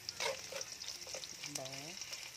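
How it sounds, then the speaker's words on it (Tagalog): Garlic sautéing in oil left over from frying tofu and boiled eggs, a steady close sizzle with a few stirring scrapes and a brief voice partway through. "Dito na rin ako naggisa sa pinagpituhan ng toko at saka ng itlog na nilaga natin."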